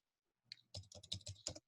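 Keys on a computer keyboard are tapped in a short burst of about seven quick clicks after a couple of faint taps, crisp and close, with no talk.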